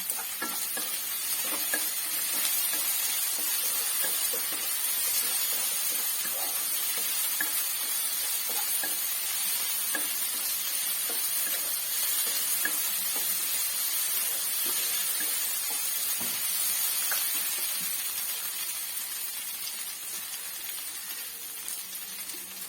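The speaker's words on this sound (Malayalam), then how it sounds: "ഒരു 3 പച്ചമുളക് ഇടാം, കീറി. കുറച്ച് കരിയാപ്പില ഇടാം." Slit green chillies and curry leaves fry in hot oil with a steady, loud sizzle and hiss, broken by occasional crackles and stirring clicks, with no talking.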